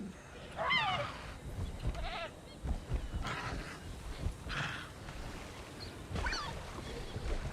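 Goats bleat in the video game Jurassic World Evolution, several wavering calls spaced across the stretch over a low background murmur, moderately near.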